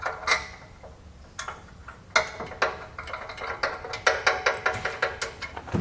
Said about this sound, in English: just going to reinstall the bolts we took out of that bumper extension